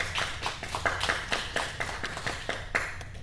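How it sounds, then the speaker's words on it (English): A church congregation claps for a child's birthday, scattered hands clapping in uneven rhythm at moderate distance, fairly faint in the room. "Can we give him a round of applause?"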